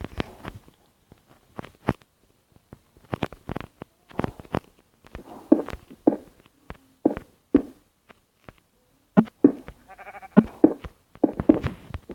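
Short sheep bleats in Minecraft Pocket Edition scattered between sharp clicks and taps, the bleats sounding synthetic and game-like, with quiet gaps between bursts.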